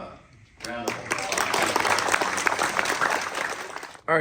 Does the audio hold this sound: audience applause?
yes